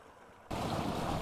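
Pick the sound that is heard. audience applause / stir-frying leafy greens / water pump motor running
water pump motor running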